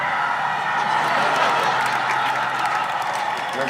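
A small group of people cheering and clapping after a stalled car is restarted in Italy, a continuous, fairly loud wash of applause and voices.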